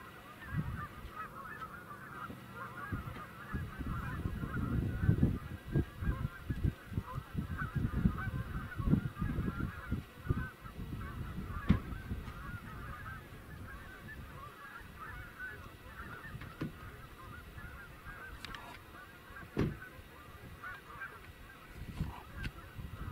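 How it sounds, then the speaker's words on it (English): Canada geese honking from below the observer, a busy chorus of overlapping loud honks for the first half, thinning to scattered calls, with no talking. "Yeah, they sound like Canada geese down there."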